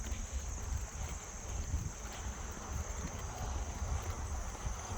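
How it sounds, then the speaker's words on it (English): Wind blows during an outdoor walk, a steady broadband rumble and buffeting against the microphone that persists throughout with no pauses. "Ooh, there's some wind."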